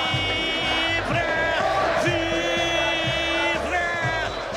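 A Brazilian football crowd roars and chants after a Ponte Preta goal against CRB, a loud, dense wall of voices with rhythmic shouted bursts.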